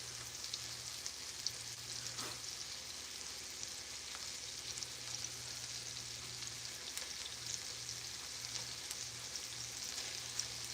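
Food sizzling and crackling in hot avocado oil, a steady, fairly quiet fry with scattered pops running throughout, with no voices over it.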